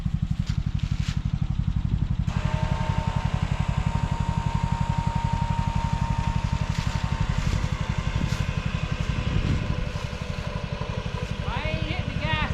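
A Fieryred 5500 lb winch drags a Honda Pioneer 500 side-by-side, its motor whining steadily under a dense low rumbling drone for the whole stretch, with people talking over it.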